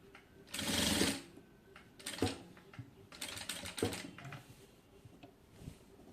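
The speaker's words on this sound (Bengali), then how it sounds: "তো লেসটির এক পাশ আমি এরকম করে গলার সাইড দিয়ে সেলাই করে নেব।" A sewing machine stitches lace onto a garment neckline, running in short bursts of rapid mechanical chatter that start and stop several times, close up, with no talking.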